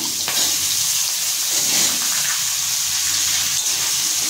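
Drumstick (sajne data) pieces sizzling steadily in hot oil with asafoetida, turmeric and chopped green chili, a constant close frying hiss with a few faint stirring knocks.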